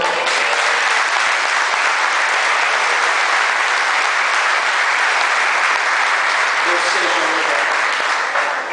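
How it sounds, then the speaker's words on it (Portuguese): A church congregation applauds the Lord, a loud, continuous roar of clapping from a large crowd that holds steady throughout, with voices mixed into it. "Você pode aplaudir ao Senhor?"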